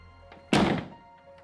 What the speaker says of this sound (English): I woke up to the front door slamming shut